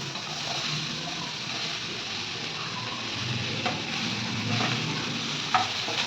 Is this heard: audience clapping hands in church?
no